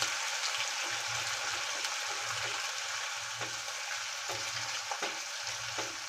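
Masala with chillies and plenty of garlic frying in hot oil for palak paneer, a steady close sizzle with occasional stirring scrapes and soft pops, and no talking.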